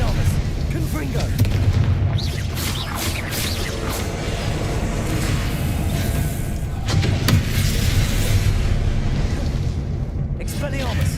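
Repeated Confringo explosion spells go off in the Hogwarts Legacy video game as a run of heavy, rumbling booms and blasts, loud and continuous, with a voice speaking over the action.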